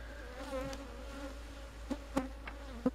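African honey bees buzz softly around the microphone during a transfer into a Kenya top bar hive, a thin wavering drone with a few sharper buzzing passes close by.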